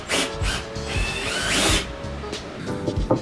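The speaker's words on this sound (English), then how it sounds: "Let's put another pilot hole. Alright, screws coming in." A power drill driving screws into a pilot hole, short whirring bursts with rising pitch and brief pauses between them, close and fairly loud.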